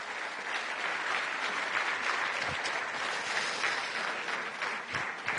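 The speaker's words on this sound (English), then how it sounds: "This is your applause." Sustained audience applause filling a conference hall at the Bled Strategic Forum, dense steady clapping from a large crowd lasting several seconds without talk.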